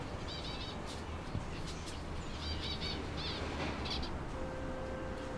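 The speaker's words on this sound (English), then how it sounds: "A finch, calling from above my head, maybe 50 meters away from the aviary." An escaped zebra finch calls from overhead some distance away in a quiet garden, giving a few short clusters of thin, bright chirps that stay faint against soft background ambience.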